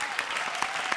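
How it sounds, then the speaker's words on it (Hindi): Audience applause at a Hindi TV comedy show, a dense burst of clapping from the crowd carrying steadily through the moment with a few sharper claps standing out. "ऑडियंस, अगर आपको इनकी परफॉर्मेंस पसंद आई है तो जोरदार तालियां"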